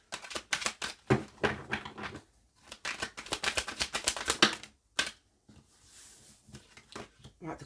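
Tarot cards are shuffled and drawn, giving rapid bursts of crisp riffling and slapping clicks in irregular clusters, close and fairly soft, with a person talking in between.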